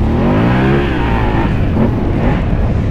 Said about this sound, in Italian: Sentite il motore adesso in prima.